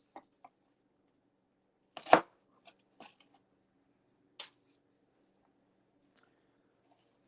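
A knife chops vegetables for Philly cheesesteaks on a board, a few sparse, sharp, close cuts with one louder crunchy chop among scattered quieter taps and long silent gaps.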